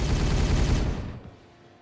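Rapid automatic gunfire from the Warhammer 40K Regicide video game, a dense, loud burst of rattling shots for about a second that then cuts off and fades into a quieter, decaying tail.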